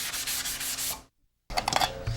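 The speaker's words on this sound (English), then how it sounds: "You end up having to do the final sanding by hand" Hand sanding a finished wooden piece: steady rhythmic scratchy rubbing strokes, close and fairly loud, that stop briefly for a moment of silence and then resume, with no talk.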